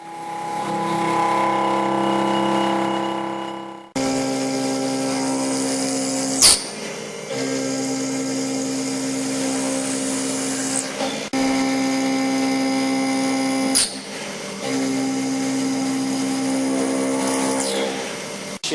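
A power saw with a fine 12-tooth blade cuts a billet chunk into inch-long pieces for custom Chevelle emblems, whining steadily in long passes broken by brief sharp clanks between cuts.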